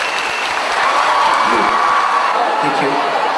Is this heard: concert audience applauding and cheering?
yes